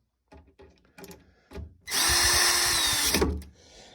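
A power drill drives wood screws into the back panel of a roll top desk, starting with a few short clicks and handling knocks, then one loud, steady whir of about a second and a half.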